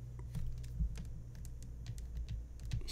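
Someone types a letter on a computer keyboard, producing a steady stream of soft, close key clicks for about three seconds with no talking.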